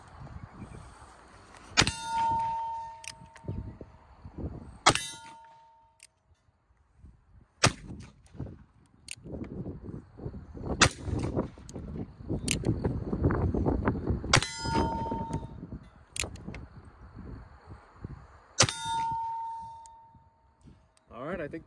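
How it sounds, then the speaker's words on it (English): A .44 caliber black powder percussion revolver fires six loud, sharp shots spaced a few seconds apart, each ringing briefly, with someone talking in between. "we're just gonna take six shots real quick."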